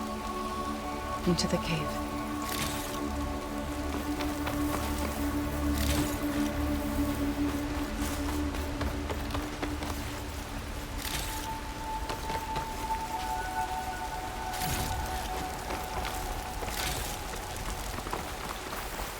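Rain falls steadily in Horizon Forbidden West, a soft constant patter under game music and a brief spoken line.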